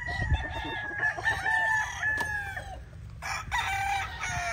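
A grey gamecock rooster crows in full, loud and close, with clucking and other fowl sounds around it, followed by a second shorter crow near the end.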